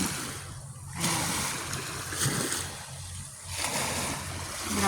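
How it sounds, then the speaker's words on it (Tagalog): Tidal water surges against the shore of Sharp Island in Sai Kung, Hong Kong, at night as high tide returns. It comes as a steady rushing wash that swells and eases in waves, close by. "Biglang bumalik ang lakas ng tubig. Mag-high tide na ulit."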